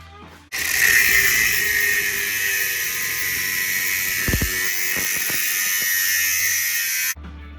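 A metal oil line pipe for a 1999 Harley-Davidson Dyna FXDX being cut with a steady, loud whirring power tool that runs continuously for about six and a half seconds before stopping abruptly.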